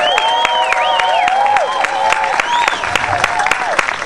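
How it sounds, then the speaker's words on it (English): A parade crowd applauding and cheering a float with a girl in a cage at a rally and parade in Nimbin, dense clapping mixed with whistles and shouts, loud and sustained. "What's the crowd applause on that for number 10, the girl in the cage?"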